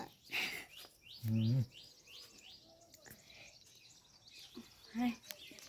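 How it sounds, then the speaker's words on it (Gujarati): Quick, high sparrow chirps repeat in short runs, fairly faint, with a few louder squeaks and voices nearby. "આ ચકલી છે"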